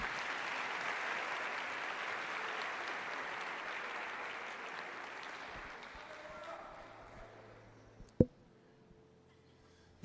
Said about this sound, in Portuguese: Vamos dar a Jesus uma linda salva de palmas.